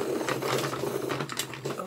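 A pencil sharpener grinds a colouring pencil for adult colouring with quick, rapid scraping and whirring pulses at close range, steady for about two seconds with no speech.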